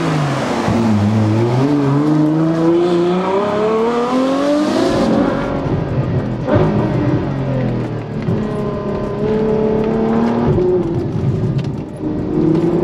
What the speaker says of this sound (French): je vous fais quand même quelques petites accélérations pour que vous puissiez vous rendre compte du monstre que c'est en termes de mécanique